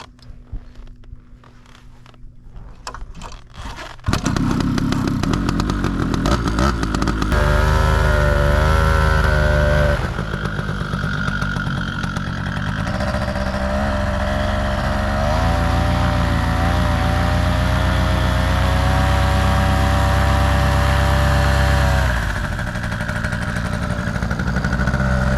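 A paramotor engine starts after a few seconds of quiet clicking, then runs loud and close with a steady droning roar, briefly rising and easing in pitch as it is revved.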